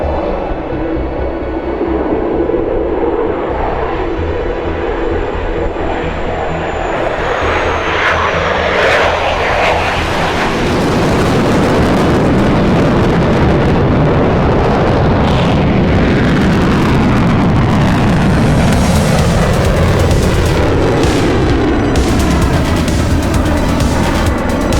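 F-14 Tomcat jet engines in the DCS flight simulator game, a loud continuous roar that builds and sweeps in pitch as the aircraft passes, with the engine noise alone and no talk.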